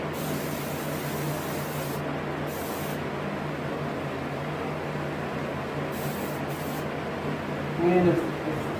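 Airbrush spraying paint onto a reproduction rainbow trout, a steady soft hiss of air that runs throughout with brief gaps, under a voice talking.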